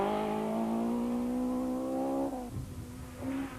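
Nissan touring race cars at the 1993 Tour de Total, one engine holding a loud, steady, buzzing note through a turn before easing off, then further engine sound from nearby cars.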